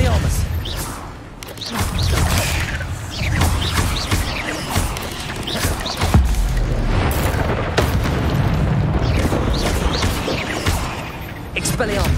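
Spell casting in the video game Hogwarts Legacy, a relentless run of magical booms, bursts and crashes from close combat, with a voice talking throughout.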